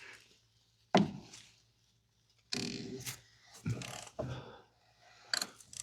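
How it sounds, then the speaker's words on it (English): 36mm socket on a ratchet loosening the fuel filter on a 2017–2023 Chevy or GMC 2500HD/3500HD Duramax 6.6L, with a sharp crack followed by several bursts of ratcheting clicks and clunks separated by pauses, close and fairly quiet. "To remove the fuel filter, it takes a 36mm socket. Loosen the filter."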